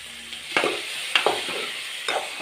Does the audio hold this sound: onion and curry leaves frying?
yes